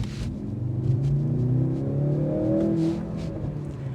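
A 2025 Mercedes-AMG C63 S E Performance plug-in hybrid accelerates in Sport Plus mode, its engine note rising steadily in a droning growl from inside the car, loud and continuous with no talk.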